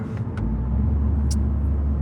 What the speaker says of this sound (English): this is a diesel engine